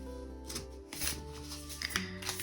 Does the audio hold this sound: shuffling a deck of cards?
yes